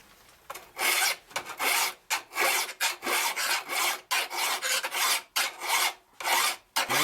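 File strokes rasping along a machete blade near the tip, a close, steady series of rough scraping pulls in an even rhythm with short gaps between them, no talking.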